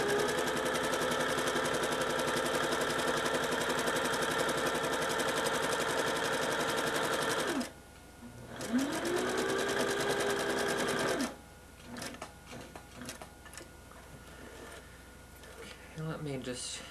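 A sewing machine runs in long steady bursts stitching the seam that joins two end pieces of a homemade circus tent, a close rapid mechanical whir that stops and restarts briefly, with a person talking between runs.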